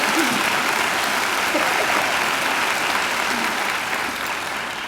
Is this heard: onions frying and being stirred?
no